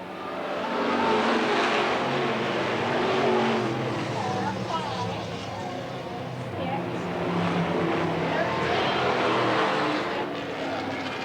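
Race cars roaring around the oval at Eugene Speedway in 1991, engines droning continuously as the pack passes, with an announcer calling positions over the noise.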